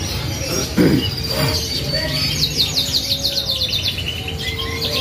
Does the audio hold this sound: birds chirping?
yes